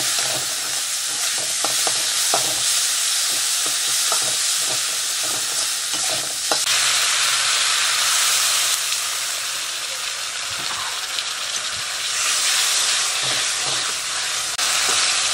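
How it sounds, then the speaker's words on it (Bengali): Spice masala with chilli powder and salt stir-frying in a pan for masoor dal: a loud, dense hiss of sizzling oil with scattered scraping taps of a spatula, close and without talk. "পরিমাণ মতো লবণ দিয়ে এটাকে ভালো করে কষিয়ে নেব।"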